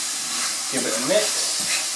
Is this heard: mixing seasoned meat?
yes